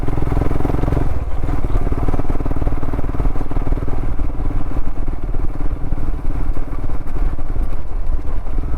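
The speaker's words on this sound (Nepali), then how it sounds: "के भयो कटक पटक पटक पटक पटक गरेर बज्दैछ हौ बाइक पनि सबै बुढो भयो" An aging motorcycle engine runs steadily and loudly up close, its dense, continuous clatter carrying an irregular knocking rattle throughout with no pauses.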